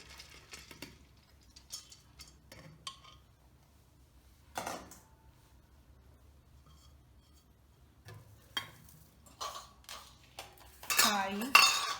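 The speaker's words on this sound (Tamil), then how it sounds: "இப்போ நான் குக்கரில் போட போகிறேம்மா" Kodo millet and dal going into a pressure cooker, with scattered clinks and scrapes of metal vessels and utensils, quiet stretches between, and a louder rattling clatter near the end.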